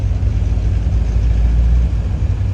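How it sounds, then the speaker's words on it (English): A 1988 Corvette C4 engine idles steadily with a deep, continuous low rumble, close and fairly loud, with no voices. "just listen to that lovely engine sound"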